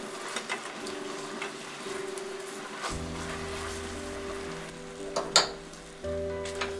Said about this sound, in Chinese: 接入熟猪肉块，让它在酱汁中煮小火3分钟，小心酱汁不燃烧